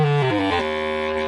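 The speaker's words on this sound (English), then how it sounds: "This is a bass clarinet." A wooden bass clarinet, a single-reed instrument about two metres long and coiled, plays a short descending run of low, reedy notes settling on a held tone, close and unaccompanied.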